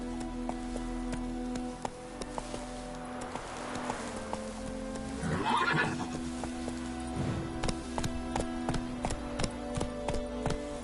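A horse in the video game Witcher 3 Wild Hunt whinnies loudly once midway, while clip-clop hoofbeats trot steadily throughout over a soft rain-like background.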